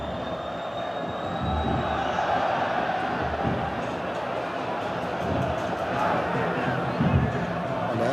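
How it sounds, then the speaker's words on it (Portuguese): A large football stadium crowd at Internacional versus Vasco da Gama in the 2013 Brasileirão, a dense continuous roar of massed voices rising and swelling, distant and reverberant throughout. "E a torcida solta o grito de olé"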